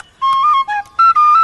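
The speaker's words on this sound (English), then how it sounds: "Wilfred, give me the whistle" A small whistle played as part of a whistle lesson in a children's Brambly Hedge story, giving a short run of clear, bright, sustained notes that step between a few pitches, close and alone with no voices.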